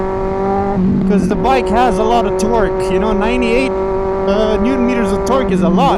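A 2023 Kawasaki Z900 motorcycle engine hums and surges beneath a rider talking loudly close to the microphone, with wind and road noise around it.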